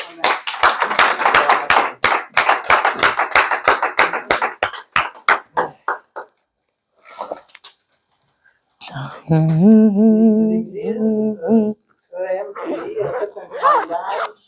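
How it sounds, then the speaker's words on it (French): A church congregation claps in a brisk, dense round of applause that thins out and stops, followed by a pause and then close voices talking and chuckling. "Acclamons la parole de Dieu."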